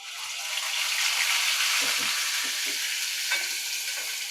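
Masala hits hot oil with a loud, bright sizzle that hisses continuously while a spoon stirs, giving a few soft knocks and scrapes partway through.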